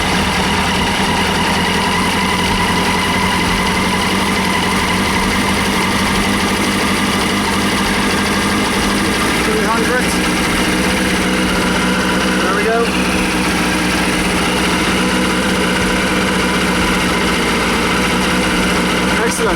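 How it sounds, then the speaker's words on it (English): Suzuki RF900 motorcycle engine idles steadily at around 1750 RPM, a constant close hum with a fast even patter and no change in pace through the stretch. "So the way you set the idle is just over here, so start the bike up."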